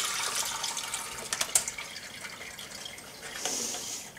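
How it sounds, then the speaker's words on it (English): Chicken drippings are poured through a strainer into a pot set in a kitchen sink, giving a splashy, trickling flow of liquid with a few louder spatters and drips, close and alone. "And just dump your drippings through."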